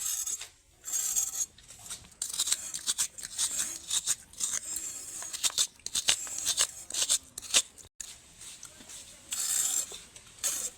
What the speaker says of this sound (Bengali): সবগুলো চিচিঙ্গার সবুজ ছাল অংশটা তুলে নিয়েছি।